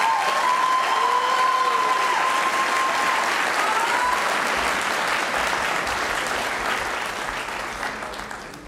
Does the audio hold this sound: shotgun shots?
no